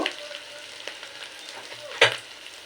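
Ginger and garlic paste frying with chopped onion in a pan, a steady low sizzle stirred now and then, with one sharper scrape or clatter near the end.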